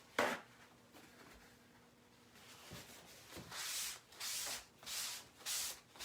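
Paper towel rubbed across a sprayed vinyl pennant to wipe off ink: a few soft scrubs, then four quick, close rhythmic wiping strokes.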